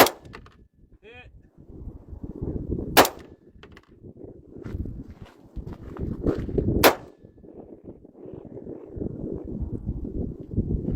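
AR-15 rifle firing at long-distance targets in desert mountains: two or three loud sharp reports spaced a few seconds apart, standing out from wind rumble and handling noise.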